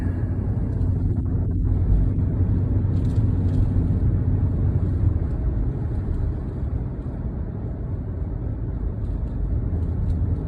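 Inside a moving car on the way home, a constant broadband road and engine rumble holds steady throughout, even and fairly loud, with no speech.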